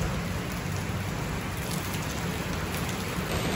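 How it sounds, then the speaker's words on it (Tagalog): Heavy rain pours steadily during Taiwan's rainy season, a dense, continuous hiss that stays loud and even throughout, with no voices. "ang lakas ng ulan"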